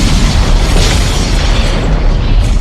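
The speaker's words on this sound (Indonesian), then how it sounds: "Setelah ledakan itu" A loud, sustained explosion tears through a lab in an action film, a dense roaring boom filling the whole stretch without letup and no voices over it.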